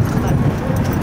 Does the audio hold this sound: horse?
yes